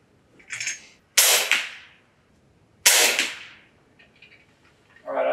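Two sharp rifle shots fired at a 50-yard target while sighting in a scope, each a loud crack with a short decaying tail, about two seconds apart, with faint handling noises between.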